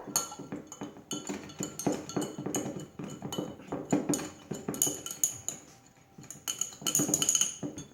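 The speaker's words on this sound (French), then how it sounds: "On va prendre le bord de la cuillère pour le mélanger avec ça." A spoon clinks and scrapes rapidly against a bowl while stirring a mixture, a close, irregular run of metallic taps and rattles without any speech.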